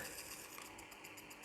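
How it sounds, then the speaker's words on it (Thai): A steady mechanical whir from the small motor of a Sony Walkman WM-20 cassette player, faint and continuous with a slight fluttering texture and no talking. "มอเตอร์จะแบบว่าเสียงดัง"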